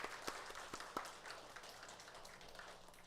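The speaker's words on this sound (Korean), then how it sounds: "한번 박수로 서로 격려하도록 하겠습니다" A university chapel congregation at an end-of-semester service gives a faint, scattered round of applause, with a few sharper claps standing out near the start before the clapping thins into a quiet patter.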